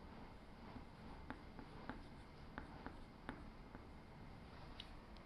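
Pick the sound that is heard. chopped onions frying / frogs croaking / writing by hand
writing by hand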